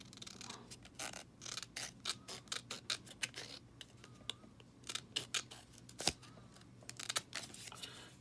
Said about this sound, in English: So we're just gonna take that score line and cut it.